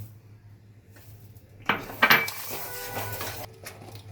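Watermelon rind jelly stirred in a pot over a medium flame, heard as a short burst of metal spoon scraping and clinking against the pot, preceded by a quiet low hum.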